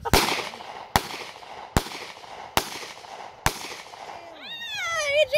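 Gunshots fired outdoors near a bonfire, five sharp cracks at roughly one-second intervals, loud and close, followed by voices talking and shouting at the end.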